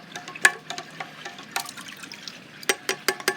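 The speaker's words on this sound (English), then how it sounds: "It's time to actually stir this to make sure the yeast is all uniformed." Yeast liquid is stirred in containers during yeast straining, giving close, irregular wet sloshes and trickling splashes, with a cluster of sharper splashes toward the end over quiet surroundings.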